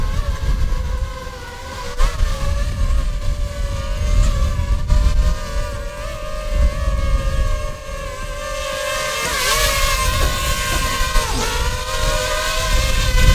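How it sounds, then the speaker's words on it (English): A DJI FPV drone descends to land in normal mode, its propellers giving a steady, loud tonal whine with stacked harmonics that dip and shift in pitch as it slows, over constant rushing wind noise. "Now we're going to go ahead and land the drone in normal mode."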